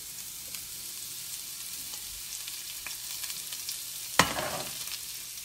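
Zucchini noodles dropped into hot olive oil in a pan, a low steady sizzle rising to a sudden loud hiss as they hit the oil, then settling back; no talking.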